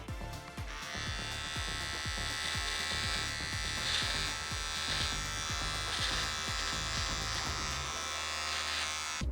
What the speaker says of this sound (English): So I'm trying to create more of a jaw shape now with the trimmer